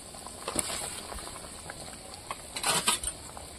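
Fish curry bubbling in a pot: a faint, continuous simmer with a few louder bursts of bubbling and light clinks of utensils against the pot.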